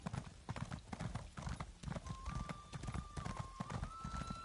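Horse hooves clip-clop steadily in the video game Elder Scrolls Online as a horse is ridden toward town, a quick rhythmic trot with faint ambient tones and a soft whinny in the background.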